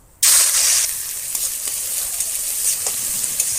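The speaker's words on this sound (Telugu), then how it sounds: "ఇలా ఫ్రై అవ్వాలండి." Palak and potato curry hits a hot pan with a sudden loud sizzle that settles into a steady close frying hiss, with faint stirring scrapes.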